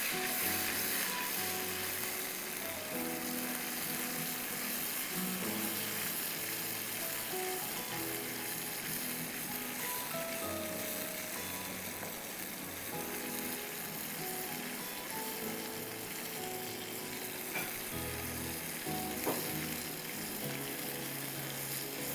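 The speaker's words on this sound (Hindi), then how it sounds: "कच्ची प्याज जो बची हुई थी, जो कोफ्तों के अंदर डाली थी, वो भी मैंने डाल दी है।" Leftover raw onion fries in a pan as the base for aloo kofta, giving off a loud, steady, close sizzle that runs unbroken for the whole stretch with no voices.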